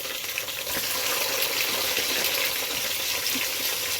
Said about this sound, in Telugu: ఉల్లిపాయలు బాగా వేగినాయి కదండి ఇప్పుడు ఆనపకాయ వేసుకుందామండి